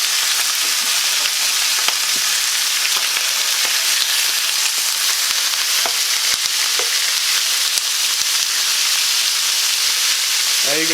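Meat, a single cut over a pound, frying in a pot as the first step of an Irish Guinness stew: a steady, loud, close sizzle and hiss throughout, with small pops and occasional stirring scrapes.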